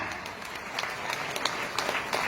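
A crowd at a Vestige gathering claps hard and steadily, a dense continuous wash of applause with scattered sharper claps standing out, no voices over it.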